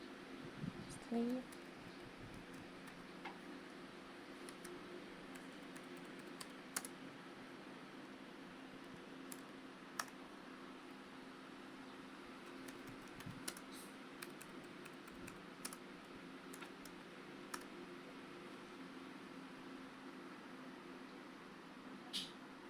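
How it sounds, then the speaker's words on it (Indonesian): Keys on a computer keyboard tap out commands in a Linux terminal on Ubuntu Desktop, giving quiet, irregular clicks spread across the stretch over a low, steady room hum. "ketikkan perintah berikut di terminal"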